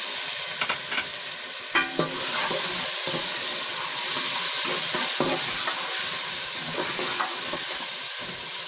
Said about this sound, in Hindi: और टमाटर को थोड़ी देर भून लेंगे।